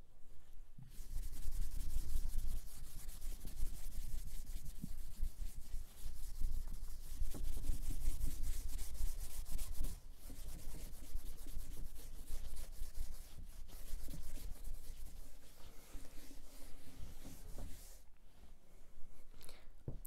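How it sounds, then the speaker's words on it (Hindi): Writing on a classroom board is rubbed out in long, steady scraping strokes that continue nearly without a break, close and fairly quiet, pausing only briefly a couple of times. "पहले मैं रब कर देता हूं"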